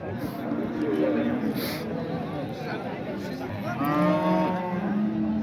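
A cow moos with long, low, wavering calls, twice, over a noisy background of crowd chatter and murmuring voices at the Qumtepa livestock market.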